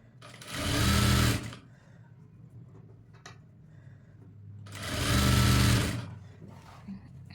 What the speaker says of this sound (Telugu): చూడండి ఇలా పెట్టి స్టిచ్ చేసుకోవాలి.